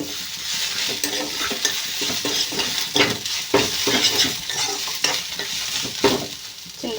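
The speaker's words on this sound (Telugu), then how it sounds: "ఈ చింతాకు అయితే దీంట్లో వేసేసి ఫ్రై చేసేసుకుందాం" Tamarind leaves fry in a hot pan for a coconut chutney, giving a steady, loud sizzle broken by repeated scraping stirs of a spoon against the pan, with no talking.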